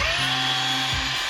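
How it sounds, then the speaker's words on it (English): A chainsaw runs underwater in a river, where it was never designed to work, producing a brief, loud, strained motor whine with a steady high-pitched tone. "the chainsaw that wasn't designed to work underwater doesn't really work too well underwater"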